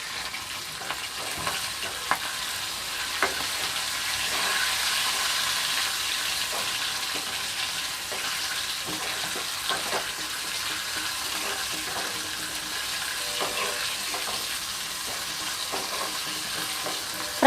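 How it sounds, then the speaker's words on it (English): Prawns frying in a pan over a medium flame, a continuous faint sizzle with scattered ticks and stirring scrapes, close and steady with no talk. "Fry properly for 2 minutes."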